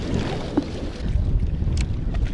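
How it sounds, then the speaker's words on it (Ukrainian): Strong wind roars and buffets the microphone steadily on a wild carp fishing trip, with rumbling gusts and faint splashy noises, no voices. "вітер розібрався страшний"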